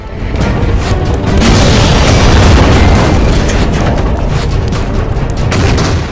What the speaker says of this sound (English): We're being assaulted by heavy artillery.